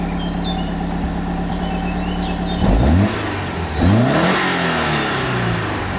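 An Alfa Romeo 33 engine idling just under 1000 rpm, a steady, loud, close low drone with two brief blips of rising revs partway through.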